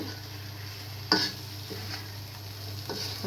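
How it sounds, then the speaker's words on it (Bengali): Fried katla fish pieces stirred into sizzling masala in a pan: a constant close frying hiss over a low hum, broken by a few sharp scraping strokes of the spoon. "সবগুলো মাছই কিন্তু ভালো করে মশলার সাথে আমি মিক্স করে নিচ্ছি"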